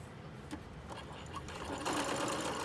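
A sewing machine basting a lapped zipper runs in a steady mechanical whir, close and fairly quiet, speeding up slightly toward the end with no talking over it.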